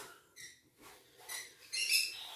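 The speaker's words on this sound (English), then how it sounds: "if you hear birds in the background" Several pet bird chirps and high tweets in short bursts, with the louder, brighter calls coming near the end, fairly close and with no voices.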